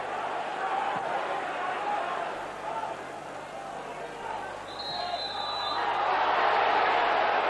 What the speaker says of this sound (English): Big cheer from the Dunfermline fans as the free kick is given against Henrik Larsson